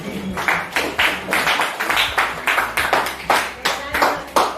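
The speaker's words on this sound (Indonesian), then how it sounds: "Berikan tepuk tangan." A class claps steadily for several seconds, a dense patter of hands swelling in bursts, moderately close.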